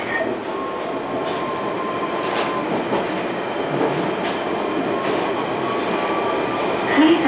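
London Underground Central Line train rolling into Woodford, a steady loud rumble and clatter of wheels on track with faint squeals and a brief high screech at the end.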